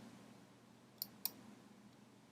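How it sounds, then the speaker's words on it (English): Two quick, crisp computer mouse clicks close together form a double-click on a file, sharp and near against a quiet room hiss. "I will double click on it to unzip the file"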